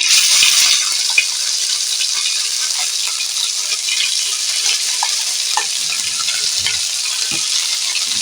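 Boiled bottle gourd greens drop into hot oil tempered with cumin, setting off a loud, steady, hissing sizzle that runs unbroken throughout, close to the pan with faint stirring underneath and no voices.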